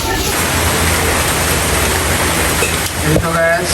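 Continuous heavy rain pours steadily outdoors as a dense, loud, unbroken wash of noise, with a faint voice and a brief tonal sound near the end.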